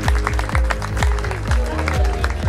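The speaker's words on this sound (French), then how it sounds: "Donc on peut les applaudir." Audience applause at the French archery championship in Lescar, a dense, steady wash of clapping lasting throughout, with sharp low thumps recurring roughly every half second underneath.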